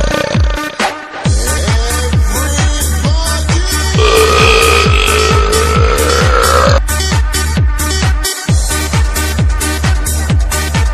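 Rhythmic burps repeat in a rapid, regular beat over a dance track, each belch short and punchy, looped and layered with music.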